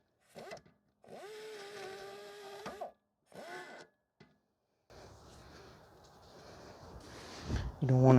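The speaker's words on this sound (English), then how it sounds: "You don't want to grind too much of the metal off." A power tool grinds metal off the rear wheel hub of a 2005 Toyota Corolla. First come several short whining bursts, then a longer, rougher grinding passage, with a person talking.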